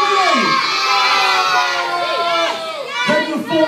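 A live wrestling crowd at a tag team championship show cheers and shouts loudly and continuously, with many high, youthful voices yelling together close by.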